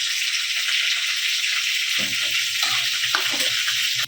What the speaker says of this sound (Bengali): এর মধ্যে আমি সাদা জিরে দিলাম একটা শুকনো লঙ্কা একটা তেজপাতা একটা এলাচ ফাটিয়ে দিলাম